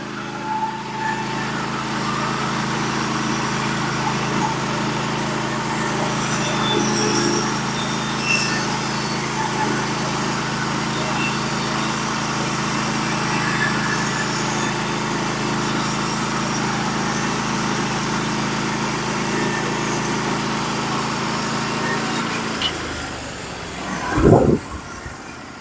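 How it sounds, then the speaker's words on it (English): A Norwood HD36v2 sawmill engine milling a large pine log into slabs: a loud, steady engine drone and cutting roar that holds for over twenty seconds, then drops away with a brief closing clunk. "This is the max of this mill cut right here."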